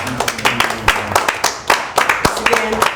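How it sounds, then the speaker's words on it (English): Hands clapping in a sharp, uneven burst close by, with a voice speaking between the claps. "Can you give yourselves a round of applause?"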